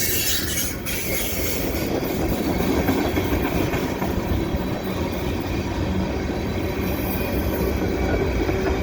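A CN westbound mixed freight with tank cars rolls steadily past the Dorval ramps in winter, loud and close, its wheels squealing high and constant over a continuous rumble and clatter.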